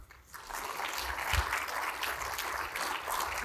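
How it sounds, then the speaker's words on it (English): Audience at an Eighth Air Force veterans gathering applauding a guest and his wife, a sustained, even round of clapping filling the room. "Please applause for that one."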